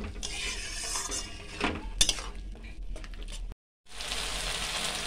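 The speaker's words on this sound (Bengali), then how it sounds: "এবার আমি মশলাটা ভালো করে কষিয়ে নেব।" Masala with green chillies is sautéed for mutton kasa, with metal utensil scrapes, clinks and a light sizzle, one sharp clang midway, and a short silence before frying resumes.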